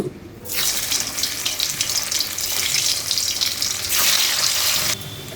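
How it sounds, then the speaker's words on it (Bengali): Food-coloured potato pieces for biryani frying in hot oil, a steady broad hiss and sizzle that swells louder midway, runs for about five seconds and then drops back. "তো আলুগুলো সব ভেজে নেব।"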